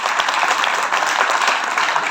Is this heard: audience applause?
yes